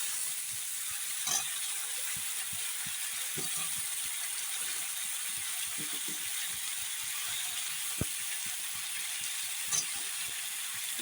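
Eggplant pieces fry in a pan with salt and turmeric, a constant low hiss of oil with faint rattling stirs and a couple of sharp knocks, quiet and even, no voices.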